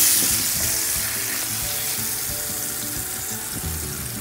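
Loud continuous sizzle of pork chops frying in oil in a pan, a dense hiss with faint crackles, close by and steady throughout, no voices.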